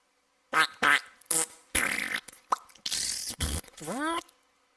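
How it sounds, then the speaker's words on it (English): A cartoonish fart sound effect from a children's audiobook: a series of loud, bursty, squeaky blasts with rising and falling pitch, ending in a long wobbly trailing toot, alone with no talk. "I let the fart speak for itself."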